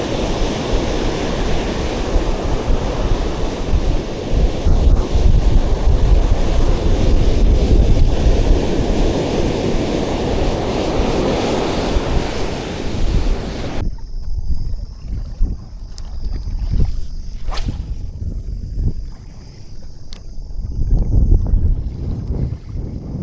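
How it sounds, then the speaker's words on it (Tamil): Choppy, foamy waves and surf wash at a backwater fishing spot in Tamil Nadu, a loud rushing churn mixed with wind buffeting, which drops to quieter splashes and lapping water partway through. "தண்ணி கலங்களும் அலை கொஞ்சம் அதிகம், ஃபுல்லாக நுறையாக இருக்குது."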